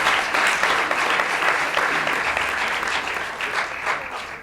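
An audience at a pleading competition final applauds the jury, a dense, steady round of clapping from a sizeable crowd that slowly tapers toward the end.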